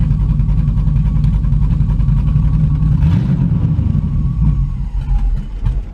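A car engine with an idle and throttle problem idles close by as a steady, low, rumbling drone that wavers slightly, with no speech.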